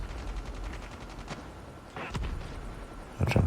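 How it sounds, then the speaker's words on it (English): Bursts of video game gunfire from Call of Duty Mobile, several sharp separate shots and short volleys spread across the moment, with a louder burst near the end over steady background game noise. "while they're busy shooting at me, the people from my team are just shooting them in the back"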